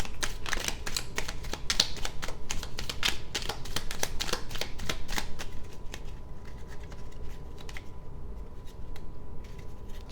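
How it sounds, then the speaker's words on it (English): Oracle cards from a Ghostly Whispers of Love deck are shuffled up close, giving brisk, crackly riffling for several seconds before it thins to a few scattered card taps. "Okay, one more shuffle."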